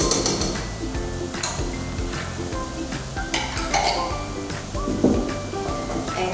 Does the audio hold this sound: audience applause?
no